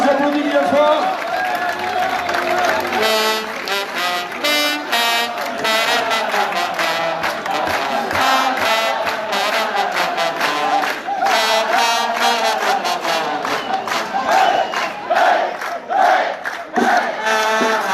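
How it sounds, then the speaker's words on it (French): Crowd at a banda festival in Mazères, Ariège, cheering and shouting in a loud, continuous mass of voices, with bursts of clapping and yells rising and falling throughout. "On les applaudit bien fort."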